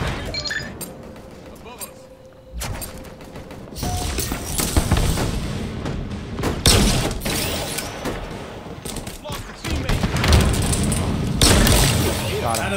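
Halo Infinite combat with a frag grenade blast amid bursts of gunfire and mechanical weapon clatter, loud and dense throughout, with players talking over it.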